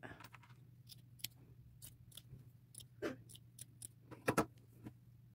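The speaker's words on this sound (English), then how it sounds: "cut it out to shape." Scissors cut an ecru-colored fabric doily to shape in a quiet room, making a series of soft, close snips and crisp clicks at irregular intervals over a low hum.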